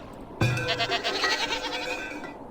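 Goats bleat in the farming strategy game Farthest Frontier, a loud burst of overlapping bleats that starts abruptly and carries on steadily for a couple of seconds with no one talking.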